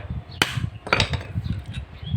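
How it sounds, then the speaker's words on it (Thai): A hammer striking the bearing seat of an electric fan while its bushing is replaced with a bearing: two or three sharp metallic taps over low rumbling handling noise, up close. "ค้อนนี่แหละครับ ตีลงไปครับตีลงไป"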